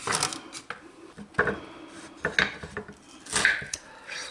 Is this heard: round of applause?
no